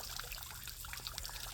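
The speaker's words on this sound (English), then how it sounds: "I love the sound of water" Water trickles continuously into a backyard garden pond, a soft, faint babble with small splashes and drips and no voices.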